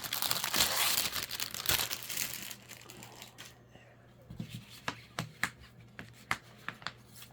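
A plastic sachet holding cross stitch canvas is handled and opened close up, with loud crinkling at first, then quieter scattered rustles and sharp taps.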